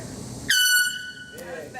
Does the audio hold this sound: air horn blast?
yes